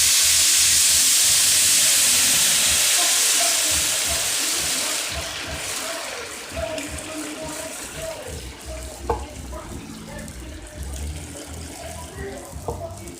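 Water poured into toasted rice in a hot pan for Mexican white rice sets off a loud burst of hissing steam and sizzling that fades over several seconds into a softer, steady bubbling simmer.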